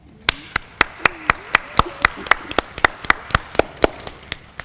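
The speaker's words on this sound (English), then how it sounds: "let's give them a round of applause" Rhythmic applause at an honor society induction, a small group clapping together in a steady beat of sharp, evenly spaced claps, close and fairly loud with a faint crowd murmur underneath.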